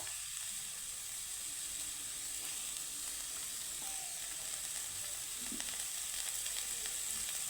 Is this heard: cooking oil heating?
yes